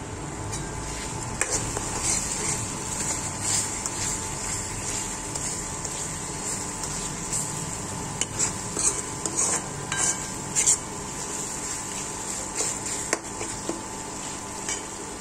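Eggs go into a pan of sizzling bhurji masala made with tomato, red chilli and turmeric, and a spoon stirs and scrapes the metal in irregular clinks over a steady, quiet frying hiss. No one talks.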